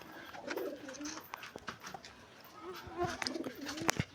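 Pet pigeons in a home loft coo softly at close range in short repeated phrases, with faint rustling and small knocks between the calls.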